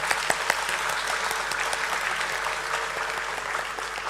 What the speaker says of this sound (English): Let's have a thunderous round of applause for him